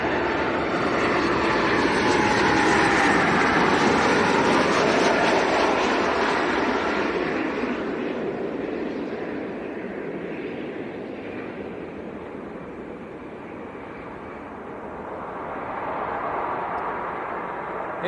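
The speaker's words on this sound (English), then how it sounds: "that was a Maltese registered Ryanair 738 Max" A Maltese-registered Ryanair Boeing 737-8 MAX at Leeds Bradford Airport roars past with loud, broad jet engine noise that peaks early, fades gradually as it moves away, then rises slightly near the end.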